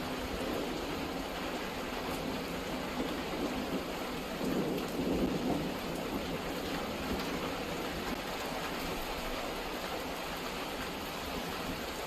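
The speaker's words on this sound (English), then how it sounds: "Wow, that is like sheeting rain." Heavy sheeting rain from a nighttime thunderstorm near Reno, a steady loud roar throughout with low thunder rumbling softly beneath, no voices.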